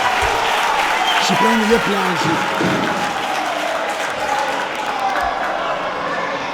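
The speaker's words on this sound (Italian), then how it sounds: "ancora la parata di Pozzi che si riprende gli applausi." Spectators at an Italian Serie A futsal match between Arzignano and Real Rieti applaud a goalkeeper's save, a steady crowd roar of clapping and cheers with a commentator speaking over it.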